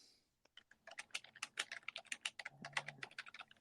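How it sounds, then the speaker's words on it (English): Fast, irregular typing on a computer keyboard, a dense run of crisp clicks and clacks close to the mic after a brief quiet start. "What are you typing over there?"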